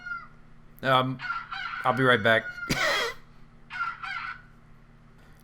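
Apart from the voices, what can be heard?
phone alarm going off, rooster-like crowing sound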